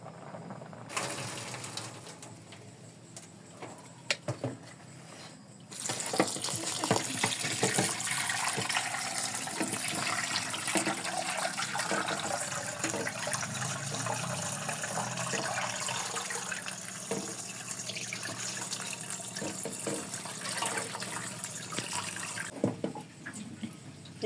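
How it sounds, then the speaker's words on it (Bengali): Cold tap water pours over freshly boiled pasta as it is rinsed in a kitchen, a soft trickle at first, then a steady, loud gush lasting most of the time before easing off near the end. "এই ঠান্ডা পানি দিয়ে ভালো মতো ধুয়ে নিছি"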